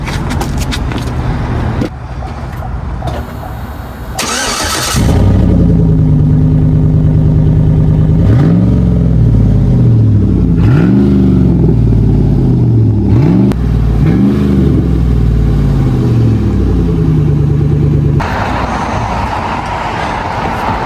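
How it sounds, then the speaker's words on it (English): A 2008 Chevy Avalanche with its muffler removed idles loudly, then its open exhaust barks through a series of rising and falling revs, each blip a deep raw roar, before settling back to a rumbling idle. "Let's see how the exhaust sounds with no muffler at all."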